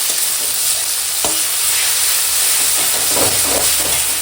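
Tomato with turmeric, dry chilli powder and salt fries loudly in a pan, giving a close, continuous hissing sizzle broken by stirring scrapes.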